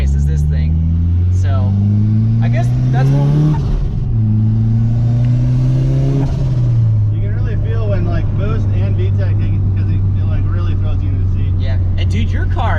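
A turbocharged hatchback with a straight-piped exhaust from the turbo back accelerates, its loud droning engine note rising through two gear shifts, then settling into a steady rumble while people talk over it.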